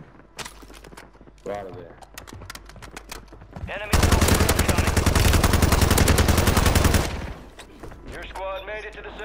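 Enemy gunfire in a video game erupts into a loud, sustained automatic burst of a few seconds, preceded and followed by scattered single shots, with voices talking around the firing.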